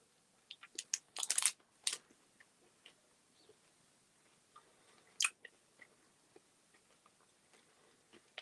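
Someone chewing a piece of Terry's chocolate orange up close, a quick cluster of crisp bites and crunches early on, then one sharp crunch and scattered soft mouth clicks in otherwise quiet surroundings.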